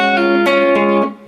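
A short electric guitar lick with a quick pull-off between notes, clear and upfront with a slightly overdriven tone, ringing briefly before fading.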